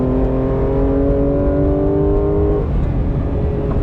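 A Manthey Racing Porsche GT3 RS MR race car howls at high revs with a steady engine tone that drops as it brakes, then picks back up under throttle, heard from onboard and loud without talk.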